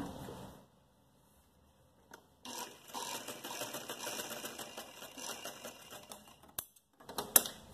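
A sewing machine stitches fabric for an umbrella frock, starting after a short quiet gap with a fast, steady mechanical rattle that runs for several seconds. It stops briefly, then gives a few sharp clacks at the end.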